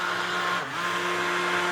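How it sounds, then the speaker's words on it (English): An immersion blender runs steadily while blending coffee, a loud continuous motor whir with a brief dip in pitch midway, no talking. "An immersion blender is the technical term for this."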